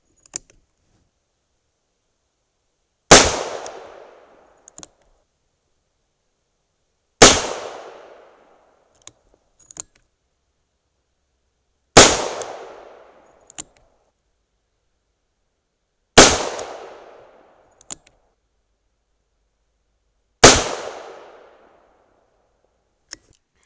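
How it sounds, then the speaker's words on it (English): Six loud, sharp gunshots from a .38 Special +P revolver firing 125-grain Hornady XTP loads ring out roughly every four and a half seconds. Each blast has a short decaying tail, and quiet clicks of handling fall between the shots. "I'm going to shoot them at that same"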